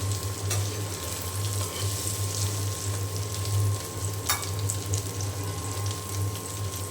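Egg sizzling and frying in a pan with onions, a steady close crackling hiss with a low hum beneath and an occasional clink of a utensil.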